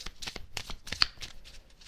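Quick riffling flutters of a deck of cards being shuffled up close, a series of short crisp bursts in rapid succession.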